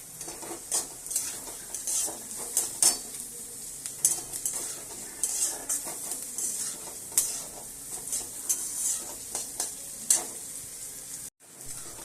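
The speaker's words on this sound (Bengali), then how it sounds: "এবার এটা ভাজা ভাজা হয়ে গেছে পর পেঁয়াজ লঙ্কাটা" Onion and chili fry in a pan with a steady sizzle, punctuated by frequent stirring scrapes and light clinks of a utensil against metal, close and moderately loud without talk.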